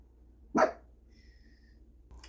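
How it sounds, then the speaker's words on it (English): A single short dog bark indoors, fairly clear but quiet against a low hum, with a faint tone afterward and a brief noise at the end. "The dogs are barking."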